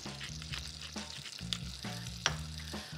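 Butter, minced garlic, salt and black pepper sizzle steadily in a pan, a soft continuous fry with occasional stirring scrapes and clinks, close and fairly quiet.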